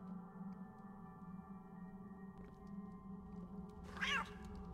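A house cat lets out a single clear rising and falling meow near the end, rather close, over a quiet steady hum from a game or electronics and no talk.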